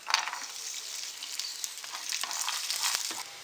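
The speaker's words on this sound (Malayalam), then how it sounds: "അണ്ടിപ്പരിപ്പും മുന്തിരിയും നല്ല പാകത്തിന് മൂത്ത് വന്നിട്ടുണ്ട്" Cashews and raisins fry in ghee in a small pan, a soft, close, bright sizzling hiss with light crackles and occasional stirring, fairly quiet and steady, no speech.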